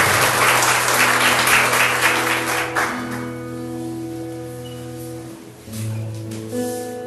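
Brief applause from a church congregation during a Portuguese-language worship service, loud at first and then fading after about three seconds as sustained organ or keyboard tones take over.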